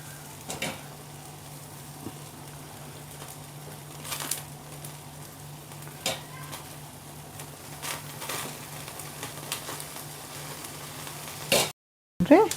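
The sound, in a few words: paneer tikka sizzling in pan after brushing melted butter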